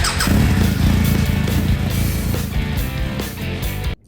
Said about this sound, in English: It's an eBay exhaust from Thailand for the KLX300R